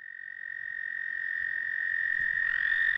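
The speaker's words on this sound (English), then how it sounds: "A sure sign that toads are mating is the high trill of the males as they vocalize to attract a mate." Male American toads trilling at a vernal pool in spring breeding season: a single sustained high, steady trill, loud and close, rising slightly in level, with no voices.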